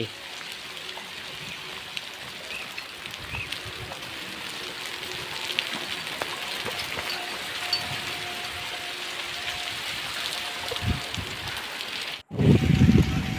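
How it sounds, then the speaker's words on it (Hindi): Continuous hiss of steady rain falling, with faint background noise and a brief louder rumble near the end. "दोस्तों असां त हितां फिरण टुरण आहे बारिश लग गई हुई"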